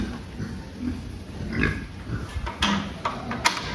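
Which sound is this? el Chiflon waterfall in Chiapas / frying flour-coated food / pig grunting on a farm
pig grunting on a farm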